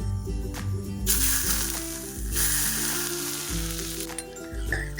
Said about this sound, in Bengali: 1 চামচ টমেটো কেচাপ আর দেবো ফুটন্ত সাদা তেল